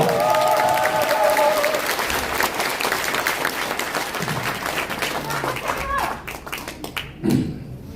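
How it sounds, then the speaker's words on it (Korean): An audience at a campaign office opening bursts into sustained applause, many hands clapping together in a dense wash that begins over a speaking voice and gradually thins out. "예, 모두 큰 박수 한번 부탁드리겠습니다."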